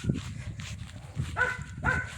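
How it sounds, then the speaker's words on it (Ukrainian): A dog on a farm lets out two moderately loud barks about half a second apart after some low background rustling, heard at middle distance with no talk over them. "Собака гавкає, щось не подобається."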